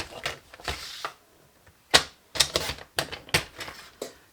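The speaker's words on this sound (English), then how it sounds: "grab my trimmer." Paper trimmer slicing cardstock for a Stampin' Up! ornate garden twisted pouch: a series of short, sharp scraping cuts and clicks in uneven bursts, close and moderately loud, with quiet gaps between strokes.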